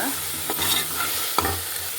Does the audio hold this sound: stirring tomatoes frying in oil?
yes